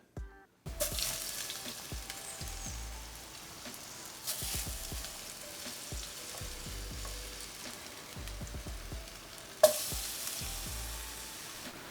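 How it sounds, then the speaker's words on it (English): Potatoes go into hot oil for fondant potatoes and fry with a steady, crackling sizzle, marked by a few louder spitting bursts as pieces drop in, with no talking. "So now, our oil's nice and hot. We'll get the potatoes in."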